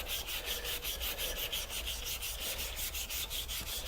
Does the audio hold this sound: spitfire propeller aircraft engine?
no